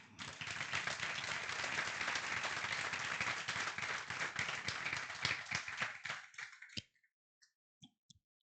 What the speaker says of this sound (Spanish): Buen aplauso.